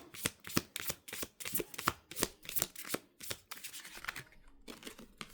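Tarot-style cards are shuffled by hand for a card draw, a close series of quick riffling and slapping bursts in an irregular rhythm, with a short pause near the end and no talking.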